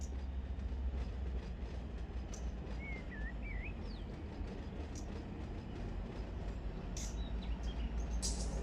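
An SD70 diesel locomotive in the Run 8 train simulator rumbles steadily as it slowly pulls away, a low constant drone with faint clicks and a few soft bird chirps above it.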